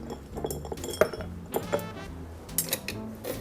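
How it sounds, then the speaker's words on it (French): Ice cubes clinking against a cocktail glass as it is chilled for a mocktail, a handful of bright, sharp glassy taps and rattles in quick irregular succession, close and clear with no talk. "nous va rafraîchir le verre avec des glaçons"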